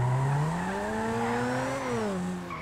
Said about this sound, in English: this just sounds like a normal car.